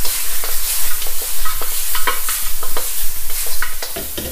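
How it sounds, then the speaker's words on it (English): Vietnamese spare ribs fry in a pan with a loud, close, continuous sizzle and bursts of crackling spatter, alone with no voices. "Okay, let it fry for a while."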